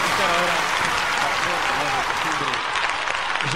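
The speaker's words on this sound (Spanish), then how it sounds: "con un cálido aplauso" Audience applause at a tango concert: steady, dense clapping from a large crowd fills the whole stretch, loud and close, with a voice speaking over it.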